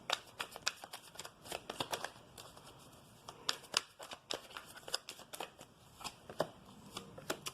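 Tarot cards being shuffled and drawn during a reading: quick, close riffling and flicking of card stock in irregular bursts, with no voices.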